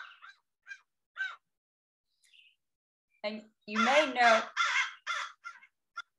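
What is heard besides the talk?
fish crow calling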